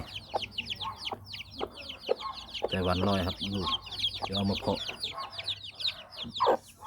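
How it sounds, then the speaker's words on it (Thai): Taiwanese fighting chickens cluck and chatter continuously nearby, with dense overlapping calls and a few louder squawks, while someone talks over them. "นี่ครับนี่ครับมาอัปเดตไก่"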